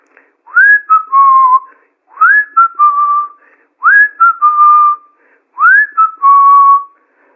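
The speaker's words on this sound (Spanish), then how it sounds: "escuchó que alguien silbaba" Someone whistles the same short rising-then-falling tune four times in a row, clear and close, with brief pauses between phrases and no other sound.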